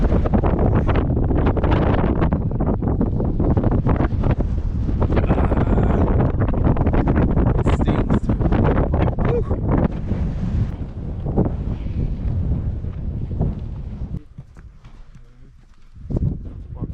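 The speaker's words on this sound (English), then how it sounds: "the wind's picked back up again." Strong wind gusts over sand dunes in Morocco, buffeting the microphone with a loud, continuous roar that eases off near the end before briefly surging again.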